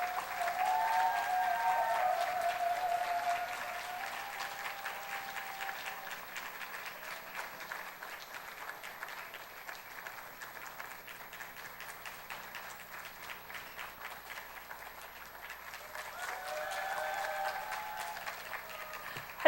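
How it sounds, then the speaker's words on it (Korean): An audience at a church lecture gives sustained applause, a dense steady patter of many clapping hands that swells near the start and again near the end, with no talk. "우리 박수로 환영하도록 하겠습니다"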